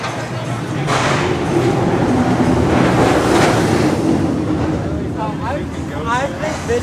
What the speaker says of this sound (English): There it goes, the empty train.